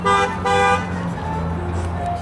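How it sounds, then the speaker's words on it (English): A car horn toots twice in quick succession, loud and close, over a steady engine rumble outdoors at a school turf site. "Loud car."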